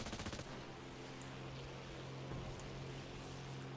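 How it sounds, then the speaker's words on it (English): Steady rapid machine gun fire from an aircraft in the War Thunder game, a dense continuous stream of shots running the whole time, loud and close, with a heavier burst at the start. "These two machine guns."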